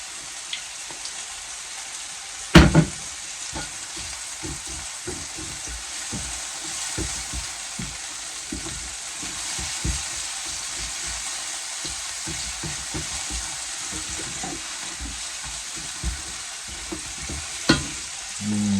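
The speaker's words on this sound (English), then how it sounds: "We cook our mushroom until it's tender" Mushrooms frying in sunflower or rapeseed oil in a pan give a steady close sizzle with crackling, plus a few louder clatters of utensil or pan contact early and late, with no one talking.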